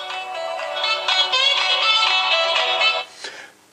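A bright, tinny melodic ringtone plays from the speaker of a HomTom S9 Plus smartphone, loud and treble-heavy for about three seconds before cutting off, followed by a brief clatter.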